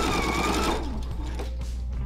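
A sewing machine stitching fabric for a camisole top, a steady fast mechanical whir running close and continuous, then slowing and easing off toward the end.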